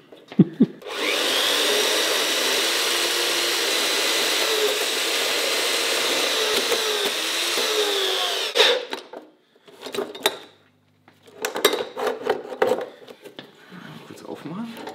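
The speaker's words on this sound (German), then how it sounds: "Die Parkside kaut sich da weiter einfach durch." A Parkside power saw cuts steadily through material for about eight seconds, a loud continuous whining drone, then stops; short clattering knocks and handling noises follow in the quieter stretch.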